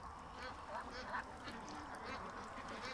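A duck gives a couple of quick, soft quacks close by, mixed in with low background noise and a speaking voice.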